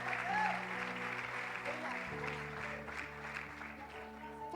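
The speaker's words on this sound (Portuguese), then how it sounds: "Aplauda Jesus." A congregation claps during a Portuguese-language church service, a steady wash of applause heard under a speaking voice and sustained musical tones, moderately loud throughout.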